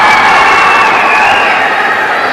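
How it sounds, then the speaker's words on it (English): A crowd at a high school hockey game, St Stephen's against Brother Rice, cheering loudly in a steady, sustained roar without a break. "Crowd responds."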